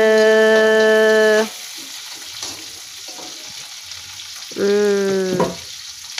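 Chili peppers frying in oil for sambal in a simple home kitchen give off a steady background sizzle, loudly overlaid by a tonal hum at the start and again near the end.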